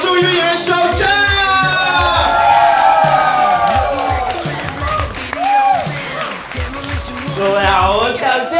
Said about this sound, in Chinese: 最热烈的掌声欢呼声